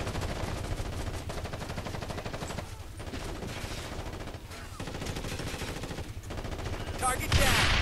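Rapid sustained gunfire in Ghost Recon Advanced Warfighter, dense automatic bursts crackling nearly continuously with a few brief gaps, loud and close, with a voice calling out over it.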